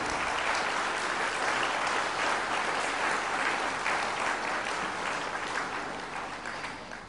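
A hall full of people at a municipal New Year's greetings ceremony in Béthune breaks into sustained applause, a dense, even wash of clapping that carries for several seconds before tapering off.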